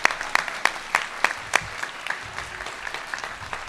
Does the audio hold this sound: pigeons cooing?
no